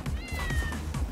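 A cat in the video game Tokyo Jungle lets out a short, drawn-out meow, close and clear, with no talking over it.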